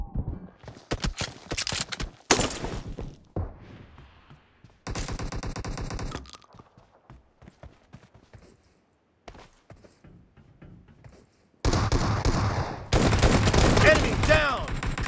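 Bursts of rapid automatic gunfire and shotgun blasts from a PUBG team deathmatch game come in loud clusters separated by quieter gaps, with game voice callouts in between.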